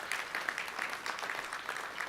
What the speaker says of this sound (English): let's give Dr. Hurtado a big round of applause